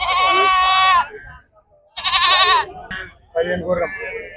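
Sheep and goats bleat loudly and up close at a sheep and goat market in Chillakallu, with long wavering calls in two main bursts and then shorter ones.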